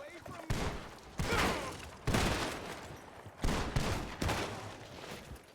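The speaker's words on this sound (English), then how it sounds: "Stop shooting Lenny" Repeated bursts of gunfire from the video game Red Dead Redemption crack out in several loud volleys a second or so apart, with voices faintly mixed in.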